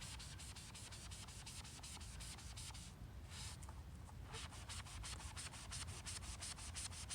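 Car window trim is scrubbed with a wet magic eraser in quick, even back-and-forth rubbing strokes, close and faint, with a short pause midway and no talking.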